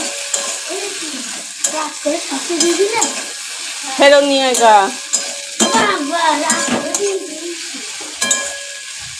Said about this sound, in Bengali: হচ্ছে ভেন্ডি ভাজা